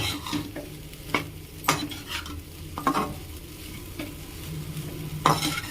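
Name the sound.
stirring rice into egg fried rice in a pan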